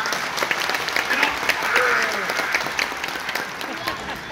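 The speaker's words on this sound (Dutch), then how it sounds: "En als je hem op wilt peppen, dan mag je ook best klappen ervoor." Audience applause during a live circus act by the Kovachev Brothers in Eindhoven, a dense, steady patter of clapping filling the whole stretch with slight swells, crowd noise mixed in.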